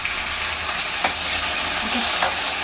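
Onions and lentils fry with a steady close sizzle in a pan for Andhra-style ulava charu, with a couple of brief scraping stirs, no talking.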